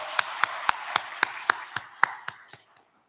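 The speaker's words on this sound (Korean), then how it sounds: "박수하겠습니다." Applause at a Sunday morning church service, heard as about ten evenly spaced, sharp claps in unison that slow and fade away at the end.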